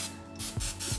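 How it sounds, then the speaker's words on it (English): Cooking spray hisses from a can onto a waffle iron in a few short, close bursts. "give it a little cooking spray"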